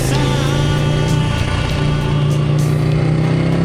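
Motorcycle engine, a bike ridden in New York City, revving loud and close with a steady low growl and rising, falling pitch throughout.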